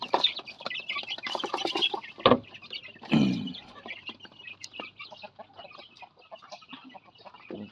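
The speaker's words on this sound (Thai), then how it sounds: "ไก่ผูใหญ่ตัวนี้" A grown chicken clucks and chatters in short irregular bursts outdoors in a backyard garden, with a couple of louder squawks and scuffling noises among the softer calls.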